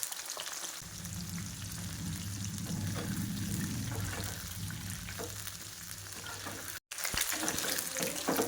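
A second batch of soya chunks deep frying in hot oil, a dense continuous bubbling hiss with a low rumble, briefly cut off near the end before resuming.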